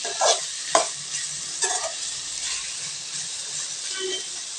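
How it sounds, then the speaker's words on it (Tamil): Boneless goat head meat sautéing in oil, a steady frying hiss with a few louder scraping strokes of a spoon early on, then continuous sizzling; no talking. "ஒரு நிமிஷத்துக்கு ஒருக்க கிளறிக்கிட்டே இருக்கலாங்க"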